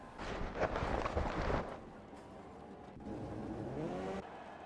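Racing motorcycle engine in MotoGP 15 on PS4, a quicker-spec bike launching off the start line at the San Marino GP, a loud roaring, revving burst that eases into a steadier drone with faint noise behind.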